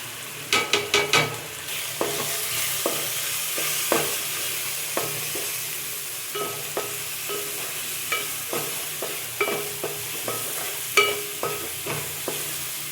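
Masala of salt, chili and coriander powder fries in a pan for a snail curry, with a steady sizzle under regular sharp taps and scrapes of a spatula stirring, close and with no voices.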